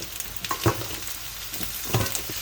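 Eggplant frying in a pan for a dry rui fish curry, a steady hiss of sizzling oil with a few soft clinks and stirring knocks, fairly close and moderately loud.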